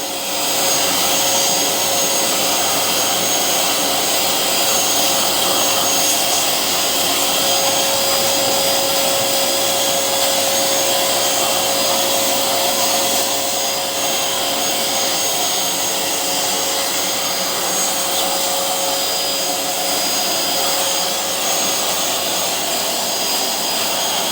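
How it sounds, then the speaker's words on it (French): A vacuum cleaner runs nonstop, a loud, steady, close whooshing roar with a faint high whine that holds unchanged throughout. "dans un premier temps, je vais bien l'aspirer"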